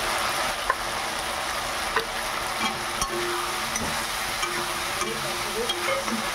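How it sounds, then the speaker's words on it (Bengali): Rohu fish curry with potato and pointed gourd being sautéed, a steady sizzle under repeated scraping and knocking of a spatula against the pan, close and even throughout. "ভালোভাবে কষিয়ে নেব।"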